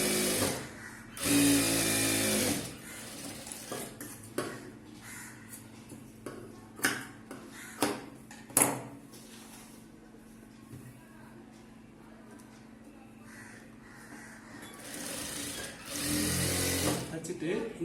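A sewing machine stitches a chudithar sleeve in short bursts at the start and again near the end, with a person talking between the runs.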